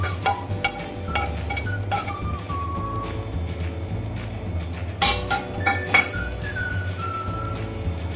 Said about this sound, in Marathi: आता हे आपण एका बाउलमध्ये काढून घेतोय